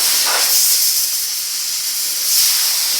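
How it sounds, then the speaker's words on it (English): Compressed air hisses from a nozzle blowing dust off the cab of a 1950 Chevy five-window truck, a loud, continuous, close rush of air that swells slightly at the start and again near the end. "And now we're just going to blow this off real good."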